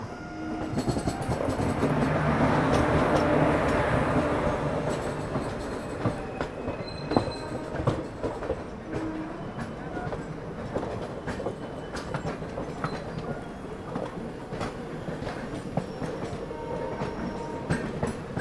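The Vindhyachal Express departing from Itarsi toward Bhopal rumbles past on the rails, a loud swelling pass early on followed by steady wheel clatter and occasional squeals, with no talking.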